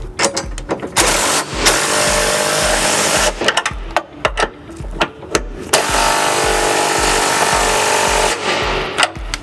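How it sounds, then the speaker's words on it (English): Flange nuts on a 2006 Buick Rendezvous trailer hitch attachment point being tightened with a 19mm socket and extension, loud close bursts of power-tool whirring separated by short pauses and clicks. "we need to go ahead and snug up these flange nuts with a 19mm socket and extension"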